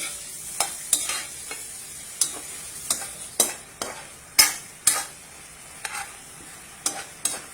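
Pork steak stirred in a pan makes a series of sharp, close scraping and clinking strokes roughly every half second over a quiet sizzle, with no speech.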